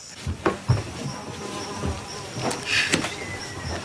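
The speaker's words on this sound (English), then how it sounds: "Flies are making a noise." Faint buzzing of flies hovering nearby, with scattered small clicks and rustles in a quiet outdoor setting.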